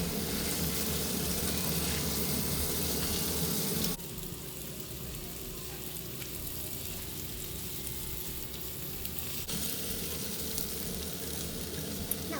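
Spareribs and potatoes fry in a pan with a dense, steady sizzle, loud at first and then slightly softer as the contents are stirred, with faint scraping at the end.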